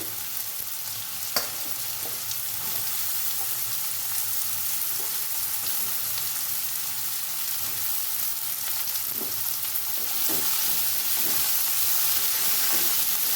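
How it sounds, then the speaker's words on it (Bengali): Ridge gourd frying in a pan with a steady, dense sizzle and hiss that continues throughout, close and fairly loud, with a few faint knocks of stirring. "এবার দেবো ঝিঙে।"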